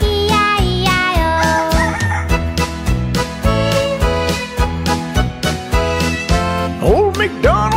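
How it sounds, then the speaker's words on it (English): A rooster crows repeatedly over a bouncy sung nursery rhyme, Old MacDonald, with accompaniment, the crow rising out of the steady musical backing. "And on that farm he had a rooster"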